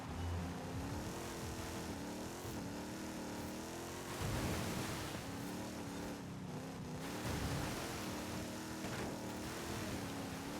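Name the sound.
car engine driving off-road in Forza Horizon 5 video game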